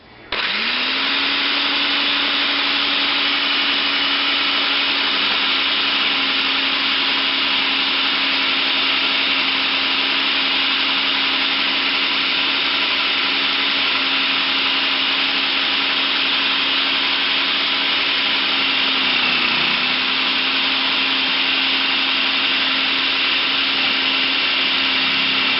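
A Black and Decker food processor slices peppers with a loud, constant motor whir. The whir holds steady for about 25 seconds, with a slight dip in pitch near the end, and there is no talking.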